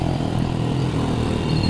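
A motorcycle engine drones steadily nearby, a low rumbling hum that holds constant without speech.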